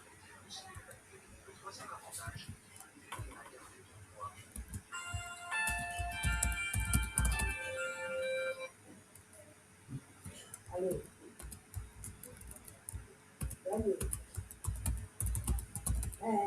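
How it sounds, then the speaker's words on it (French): Fingers tap out a password on a computer keyboard in quick, uneven bursts of light clicks, close by and moderate in level, while a person talks intermittently over the keystrokes and a brief ringing tone passes in the middle. "je suis en train de saisir mon mot de passe"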